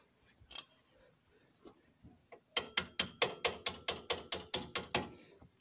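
A hammer taps on a suspension arm nut of a Citroën C6, first a few scattered knocks, then a rapid regular series of about a dozen sharp metallic strikes, close and clear.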